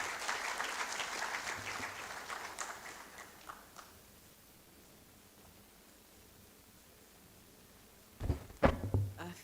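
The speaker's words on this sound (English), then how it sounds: "As she comes, please, let's applaud." A conference audience at an anniversary opening ceremony claps for several seconds, the applause fading into quiet room tone, then a few close thumps and rustles near a microphone.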